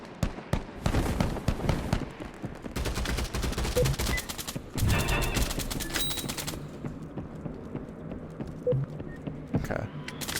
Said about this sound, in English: I think those shots are probably going to be at me.